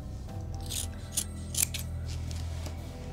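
Scissors snipping through fabric while making a Halloween bowling pin mummy, a few quiet close cuts over a low steady background hum.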